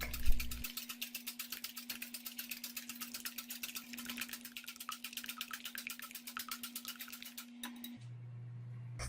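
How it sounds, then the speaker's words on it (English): Eggs beaten with a whisk in a large bowl for a pumpkin pie filling, a fast, steady run of light metallic clicks and swishes that keeps going for about seven seconds and then stops. "In a large bowl, beat the eggs with a whisk."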